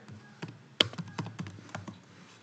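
Quick, uneven typing on a computer keyboard while writing a SQL stored procedure call: about a dozen crisp, close key clicks over a quiet background.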